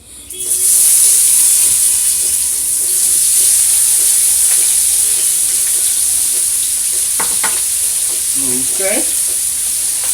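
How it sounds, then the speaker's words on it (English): Onions sizzle steadily in pan drippings over low heat, a loud continuous frying hiss with faint stirring clatter near the end and a brief spoken word. "What we're going to do now is throw our onions in there."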